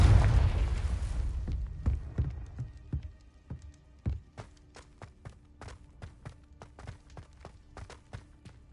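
A Confringo fire spell explosion in Hogwarts Legacy bursts loud at the start and decays, followed by a long series of sharp, rhythmic footstep-like taps and small pops at steady spacing.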